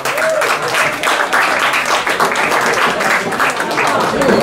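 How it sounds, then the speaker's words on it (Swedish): Open-stage audience giving warm applause to a performer, steady mixed clapping from a moderate crowd, fairly close, with some voices mixed in. "Ge en varm applåd till Elvira Linderoth."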